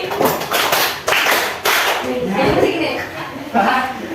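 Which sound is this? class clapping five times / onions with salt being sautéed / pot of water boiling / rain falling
class clapping five times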